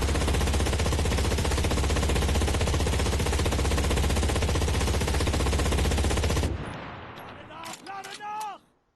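Loud, sustained burst of MG42 machine-gun fire from a 100-round belt in the video game Enlisted, a continuous rapid roar for about six seconds that cuts off abruptly, followed by brief clattering and ringing sounds.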